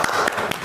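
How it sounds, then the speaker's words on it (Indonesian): Students applaud a group in a classroom, a short burst of several hand claps blending into a brief patter, heard up close for under a second. "Tepuk tangan untuk kelompok ini ya"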